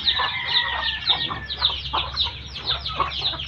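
Chickens cluck steadily and close by as they feed, with repeated short calls layered over one another in a busy, continuous flock chatter.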